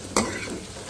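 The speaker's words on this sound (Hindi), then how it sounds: "हल्का सा इसको फ्राई करेंगे" Cumin and ginger frying in a pan, a soft sizzle with a quick stirring scrape near the start, close and fairly quiet, with no talking.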